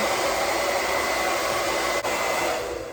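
A hair blow dryer fitted with a diffuser runs with a steady, close, even whir and airy hiss, dipping for an instant midway before continuing.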